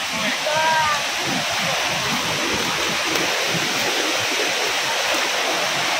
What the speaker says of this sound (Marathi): नदीचा आतापासून आवाज यायला सुरुवात झाली असेल बघा